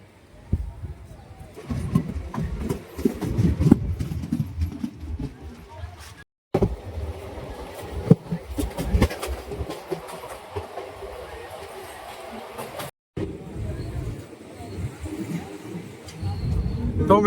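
A train pulls out of Vasad railway station from platform 1, bound for Vadodara, with rumbling wheels and rhythmic clacking over rail joints, heard close with brief dropouts and some background voices.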